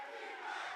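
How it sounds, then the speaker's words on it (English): Esports arena crowd at a Valorant Masters Madrid match on the map Bind, a faint, sustained roar of cheering and shouting heard from a distance, brief and continuous with no talk over it. "Yeah, the crowd getting involved now."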